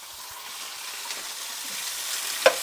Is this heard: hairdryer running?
no